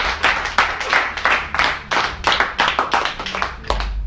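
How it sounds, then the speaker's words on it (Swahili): A church congregation gathered for Bible study and prayer claps hands together, a dense burst of applause with rhythmic peaks that keeps going steadily and close throughout, with no talk over it. "Hebu nisikie kwanza makofi kwa ajili ya Bwana."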